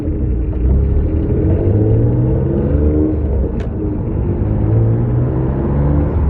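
A 500bhp Noble GT3R race car engine runs with a loud, steady low rumble and whir, close by and continuous with little change in pitch.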